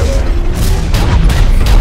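A loud, heavy sniper rifle shot in a multiplayer video game booms over a noisy mix of game sound, followed by further muffled blasts.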